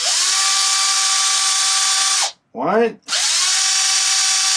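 Small power tool whirring steadily as bolts come out of an Arrma Typhon RC car, loud and close, stopping briefly while a voice counts, then spinning up again.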